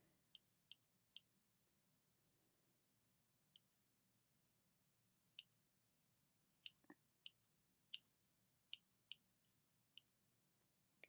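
Scissors cutting hair, sparse crisp snips that come singly and in small clusters, quiet and close in an otherwise still room.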